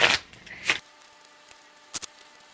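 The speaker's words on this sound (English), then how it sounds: "So I'm just going to shuffle these up." A stack of paper answer cards is shuffled close by in two quick riffling bursts, followed by quiet handling and a couple of soft taps.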